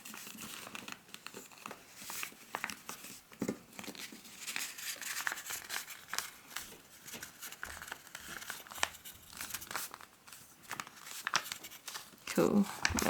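Paper being creased and folded into an origami face mask, with repeated close crinkling and crumpling and a few louder rustles near the end, under a person's steady talk.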